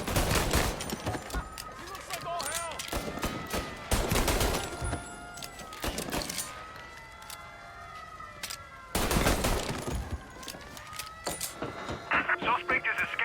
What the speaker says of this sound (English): they are firing from there